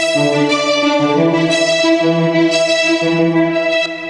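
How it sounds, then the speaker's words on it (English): A sustained, violin-like electronic string synth pad from the pre-chorus of a song, with steady layered chords over a low part, loud and continuous throughout with no voices. "One of the more underrated parts in this song is this little string synth that plays during the pre-chorus."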